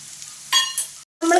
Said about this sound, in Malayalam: ഉണക്കമുളക് നമ്മൾ ഇങ്ങോട്ട് പൊട്ടിച്ചിടുകയാണ്. എന്നിട്ട് നന്നായിട്ട് ഇളക്കി കൊടുക്കുകയാണ്.